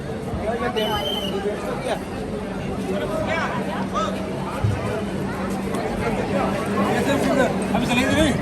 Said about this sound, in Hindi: सामने देखिए भीड़ कितना ज़्यादा है